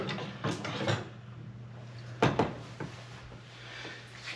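Handling a GE dishwasher door while lifting it off its hinges gives a few close clunks and knocks with scraping, spread irregularly over a quiet background hum.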